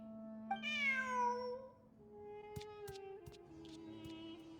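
Game cat meows from a loyal in-game kitty during a ruins exploration event, a long rising-falling mew up front, then softer chirps and tonal game music, alone with no talk.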